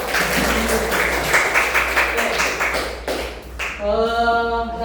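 Audience clapping in a classroom informatics lesson, a loose burst of hand claps lasting a few seconds before a tonal voice cuts in at the end.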